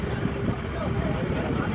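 A ship passing on open water near the Gateway of India, heard as a steady, loud low rumble with wind buffeting the microphone throughout.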